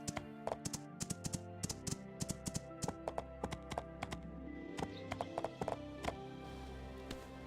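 Horse hooves clip-clop in the Portia video game, a steady run of sharp, close taps spread across the whole stretch, with game music underneath.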